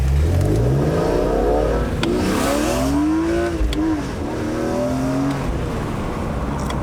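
A cheap flood-salvage BMW M3 accelerates hard through higher gears, its engine note climbing in pitch, dropping at each shift and rising again, loud and close throughout with no talk.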